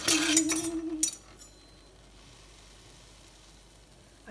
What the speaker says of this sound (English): So Pete's having his toasty done on the griddle